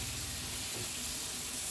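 Sausages cooking on a grill give off a steady, faint crackling sizzle, an even hiss with tiny pops that runs on without a break and without any voices.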